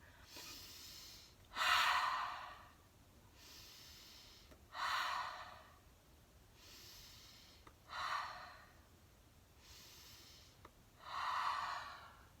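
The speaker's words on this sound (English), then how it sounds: "All right, everybody, let's breathe." Children breathing together in a slow breathing exercise: about four loud, airy inhale and exhale cycles spaced evenly, close to the microphone with quiet pauses between, no talking.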